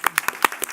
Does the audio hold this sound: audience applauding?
yes